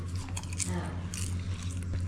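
Someone chewing popcorn made in a machine, the bites soft rather than crunchy, with close, steady mouth noises over a constant low hum and faint speech in the background.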